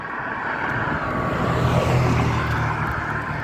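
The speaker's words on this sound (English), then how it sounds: "As you can see, the cars move pretty fast." Cars cross the Rio Mills Memorial Bridge at speed in winter, a steady broadband rush of traffic swelling slightly as vehicles pass nearby, with no talking.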